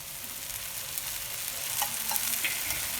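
A wheat flour onion dosa fries in oil on a hot pan, a steady soft sizzle running throughout with a few faint scraping touches near the end, no voices.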